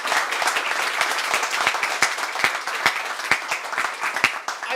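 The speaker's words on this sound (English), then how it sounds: "Let's give him a round of applause." Applause for the host at a Welsh Conservatives election campaign launch, a steady round of clapping from an indoor audience with distinct individual claps, sustained for several seconds with no talking.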